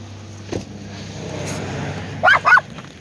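A dog barks twice in quick succession near the end, outdoors in snow, after a quieter stretch of low background hum and faint household noise.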